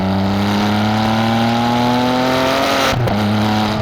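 Ferrari 599 GTB Fiorano accelerating hard, its engine note rising steadily and loudly before an abrupt, very quick gear change drops the pitch and it pulls again; no talking.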